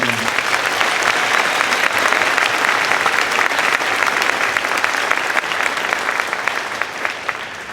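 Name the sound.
audience applause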